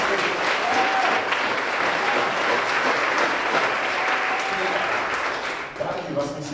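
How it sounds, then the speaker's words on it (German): A crowd applauds steadily for several seconds at a live performance at the Tollhaus in Karlsruhe, dense clapping that fades slightly near the end, with faint cheers. "Also großer Applaus."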